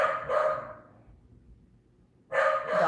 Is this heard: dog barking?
yes